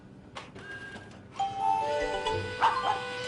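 A dog-bark 'woof' message notification plays as a short, bright bark-like tone followed by ringing chime tones, fairly quiet and heard alone.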